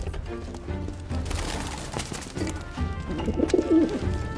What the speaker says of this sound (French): Un pigeon?